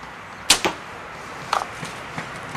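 A compound bow, a Maitland Retribution drawn at 70 pounds, is shot: a sharp release crack followed by a quick second snap, then a few faint rattles and taps as the string settles, fairly close with no talk.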